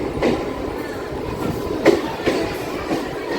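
Singareni MEMU train standing at a crowded station platform, a steady low rumble with a few sharp knocks and clanks scattered through it.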